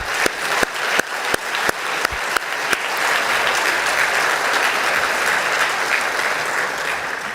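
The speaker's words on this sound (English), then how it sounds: "Let's give him a big clap." A conference audience at a WHO regional committee session in Africa bursts into loud applause, opening with several sharp separate claps and then swelling into sustained, dense clapping from a large crowd.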